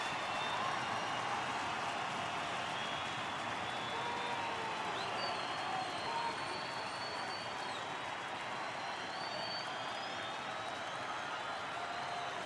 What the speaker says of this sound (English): And this crowd on its feet yet again.